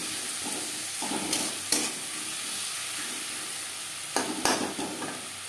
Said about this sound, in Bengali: পেঁয়াজ টমেটোর সাথে মশলা বেশ ভালো করে কষিয়ে নেব।